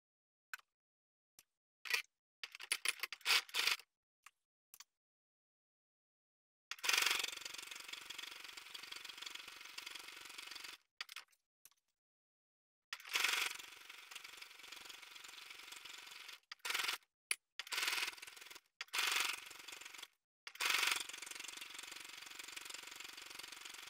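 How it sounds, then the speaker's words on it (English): A sewing machine stitches around the cut edge of a fabric pocket, running in several bursts of steady mechanical whirring and clatter separated by short pauses, close and fairly loud with no talking. "And now I'm going to sew between this cut edge all around the pocket."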